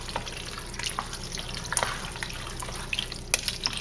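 Milk being stirred, a soft close liquid sloshing with light clinks and drips throughout.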